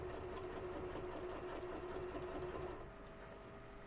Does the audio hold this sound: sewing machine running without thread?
yes